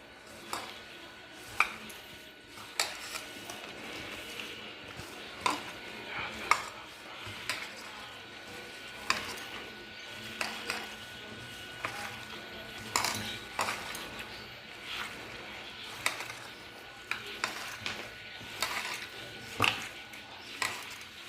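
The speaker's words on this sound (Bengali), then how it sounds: "এবার এটাকে আমি মাখবো ভালো করে।" Boiled cauliflower and egg are mashed in a dish, with repeated clinks and scrapes of a utensil against the dish in an irregular rhythm, close and moderately loud.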